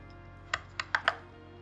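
Four crisp computer keyboard keystrokes tapped at an uneven pace, close and fairly quiet, while editing button text in an Excel spreadsheet. No one speaks.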